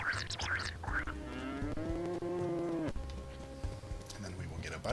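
Cartoonish cow moos from the farming video game Magical Melody, a long drawn-out call in the middle with shorter lows around it, over steady game music and chatter.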